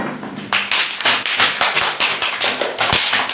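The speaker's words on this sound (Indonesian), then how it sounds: "Silakan berikan tepuk tangan" A room full of people claps in a dense burst of overlapping hand slaps, loud and close, running steadily for a few seconds without talk.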